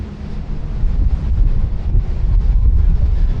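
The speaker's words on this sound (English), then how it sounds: "there's that wind again, you probably can't hear a word I'm saying, can you?" Steady wind roars and buffets the microphone with a low, continuous rumble, loud and close, with no talking.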